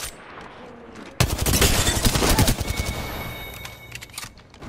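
Apex Legends gunfire bursts in as dense rapid volleys, loud and close, sustained for several seconds before easing into scattered shots over a lingering ambient hum.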